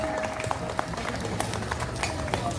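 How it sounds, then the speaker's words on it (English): A crowd applauds at the inauguration of BPMIT in Khumulwng, a Tipra Motha event, with steady, dense clapping that holds at a moderate level throughout and has a few sharper individual claps standing out. "Let's give a big round of applause."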